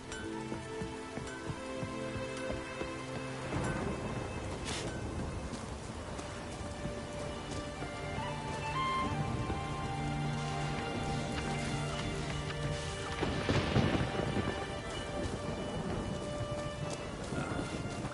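Steady rain in the video game The Witcher 3: Wild Hunt patters and hisses throughout, with occasional heavier gusts and a low rumble like distant thunder. No one speaks.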